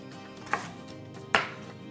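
A knife cuts through broccoli stems on a board, giving two crisp chops about a second apart, near and clear over faint room noise.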